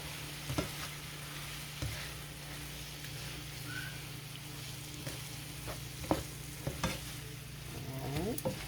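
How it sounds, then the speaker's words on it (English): Beef being stirred into a smothered sweet potato dish, a faint, steady sizzle in a pan with occasional soft spoon scrapes and taps, fairly distant and quiet. "Stir our beef in, mix it all together."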